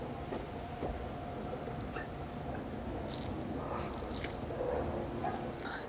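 Water pours from a watering can onto potting substrate during transplanting, a steady soft patter and splash lasting throughout, close and continuous.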